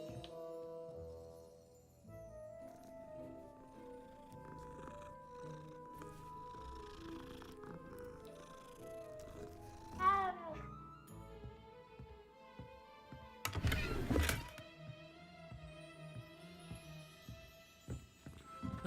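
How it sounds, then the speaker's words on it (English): Cats in Hogwarts Legacy purr over a soft game music bed, with a brief rising meow-like call near the middle and a loud burst of noise later, all fairly quiet with no talk. "Kitties!"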